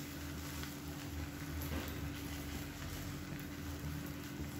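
Beaten egg with onion frying in an oiled pan over a medium flame, a soft continuous sizzle, faint and steady throughout, with no voices.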